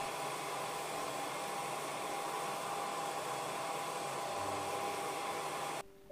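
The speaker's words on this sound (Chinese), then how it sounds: "我们可以用吹风机吹干表面的水分。" A hair dryer blows steadily to dry freshly washed peanuts, a loud continuous whooshing roar held evenly for several seconds before cutting off abruptly near the end.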